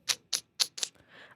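Four crisp, closely spaced keyboard keystrokes followed by a softer rustle, quiet and near, with no speech.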